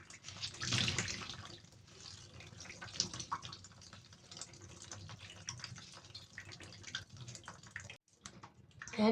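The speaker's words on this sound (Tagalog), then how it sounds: "Naugasan ko na ng tubig 3 beses." Water from a tap splashes and trickles over laundry being rinsed, a soft uneven run of pouring and sloshing with a brief pause near the end.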